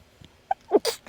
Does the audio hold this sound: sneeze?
yes